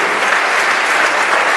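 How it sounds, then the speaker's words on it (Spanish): A church congregation breaks into loud, sustained applause during a worship service, many hands clapping together in a dense, even roar with no pause. "Démosle el mejor aplauso a Dios de la gloria"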